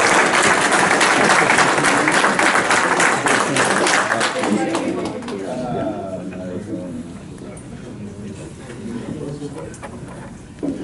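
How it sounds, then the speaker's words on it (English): An audience breaks into loud applause to welcome a speaker to the front, the clapping dense at first and then thinning and fading out, with voices talking underneath as it dies away. "Let's welcome her up with a great big round of applause."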